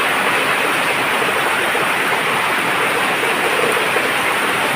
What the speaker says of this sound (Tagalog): ang lakas ng ulan dito ngayon